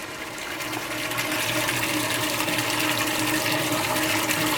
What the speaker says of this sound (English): that's your circulating pump, which is a real help when using your liquefier